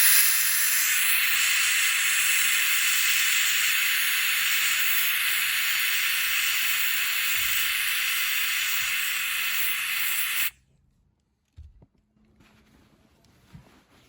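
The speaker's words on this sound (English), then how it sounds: "And hopefully the steam cleaner should make pretty quick work of it." A steam cleaner hisses loudly and continuously on car parts for about ten seconds, then cuts off abruptly, leaving near silence with a few faint knocks and clatters.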